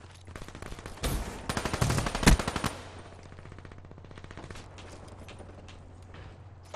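Rapid automatic gunfire in Call of Duty Black Ops 3 multiplayer, a loud burst of fast shots followed by a longer stretch of quieter continuous firing under a low hum.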